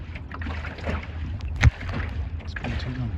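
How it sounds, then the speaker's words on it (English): Small sailboat moving over the water, with a constant rush of wind and water noise, low rumbling and a sharp knock midway, and no clear speech. "it's nice to be sailing again"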